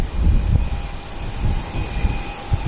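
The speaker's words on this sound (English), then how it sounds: "This is a Christchurch ATR going out at 1:35" An ATR turboprop bound for Christchurch departs Wellington Airport, a steady droning engine rumble with pulsing low-end throb, moderately loud and without talk.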